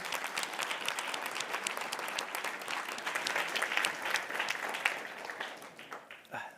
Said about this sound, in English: So please do give the panel a round of applause.